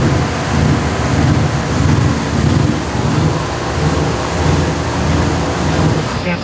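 A turbocharged Cadillac Escalade engine runs on a dyno, a loud, dense, rumbling roar that holds steady with slight surges and is held back from revving past about 2200 rpm.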